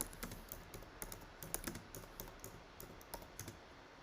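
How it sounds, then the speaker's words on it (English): Soft, rapid keystrokes on a computer keyboard tap out in an uneven stream while a prompt is entered into an AI image generator, faint and close with no talk. "Start typing your mind idea."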